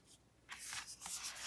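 Harry Potter meditation cards being shuffled, a short run of soft papery rubbing and riffling strokes building to a steadier, louder rustle after a quiet start, close by with no talking.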